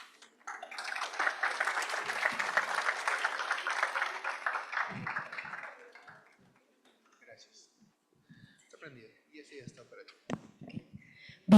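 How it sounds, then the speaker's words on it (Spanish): Audience applause welcoming a speaker at a business security presentation, a full round of many hands clapping for about five seconds before fading out, followed by quiet room sounds and a few scattered knocks. "La recibimos con fuertes aplausos"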